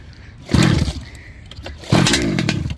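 After choking, a 35cc gas engine in a Taylor RC car is cranked in two loud, close sputtering bursts about a second apart, each rough and brief, without settling into a steady idle.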